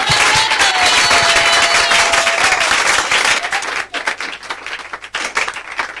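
Church congregation applauding and cheering for Jesus, a dense, loud burst of clapping mixed with crowd voices that thins out and fades over the last couple of seconds.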